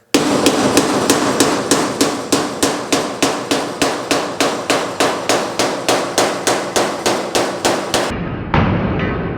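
A hammer strikes a wood block held against the door lip of a GTO restomod, about two dozen sharp, evenly spaced blows in a steady rhythm, loud and close, then stopping abruptly near the end.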